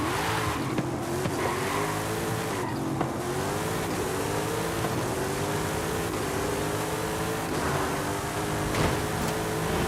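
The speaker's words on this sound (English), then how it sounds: "Let's race the Camaro." A Chevrolet Camaro races in Forza Horizon 5, its engine droning steadily with a rising, sustained tone and no letup, close and loud throughout.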